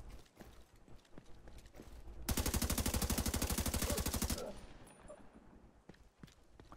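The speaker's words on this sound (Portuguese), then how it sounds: "é muito tiro pra você matar uma pessoa só," Rapid automatic gunfire from the video game The Division 2, a loud sustained burst of about two seconds in the middle, with quieter scattered shots and game sounds before and after.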